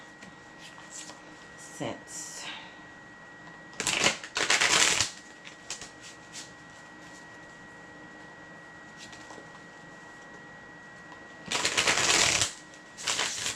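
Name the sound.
shuffling tarot cards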